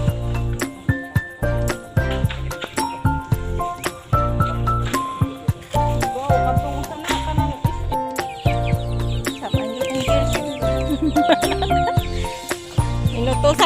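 Chickens cluck steadily in a rural provincial yard, with sharp tinkling knocks and rustling scattered throughout, close and busy, and no talking.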